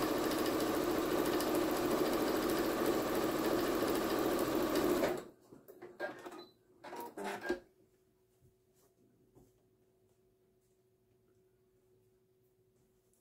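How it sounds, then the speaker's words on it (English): A sewing machine stitches fabric pieces with a quarter inch seam, a loud continuous close mechanical whir lasting about five seconds before stopping, followed by light fabric handling and a few faint knocks. "I'm going to sew it with a 1/4 inch seam allowance."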